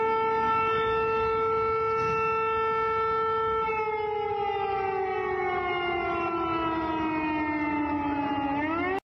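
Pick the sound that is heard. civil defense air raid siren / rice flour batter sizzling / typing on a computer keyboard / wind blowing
civil defense air raid siren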